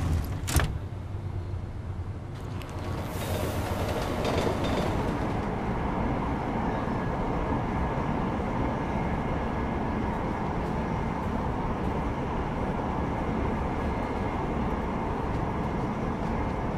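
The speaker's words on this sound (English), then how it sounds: "it's a bit of a train ride" Train ride in the video game Deus Ex: Mankind Divided, a constant loud rumbling roar of the moving carriage with a sharp clank at the start, steady throughout without speech.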